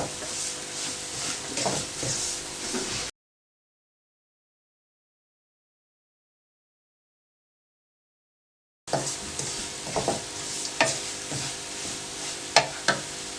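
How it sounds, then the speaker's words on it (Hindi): Carrot semolina halwa roasts over medium heat in a pan, giving a soft sizzle with scraping stir strokes, then a long silent gap before the faint frying and stirring resume with a few sharper scrapes. "दरमियानी आंच पर हमने दोबारा इसको 3 मिनट के लिए भूनना है।"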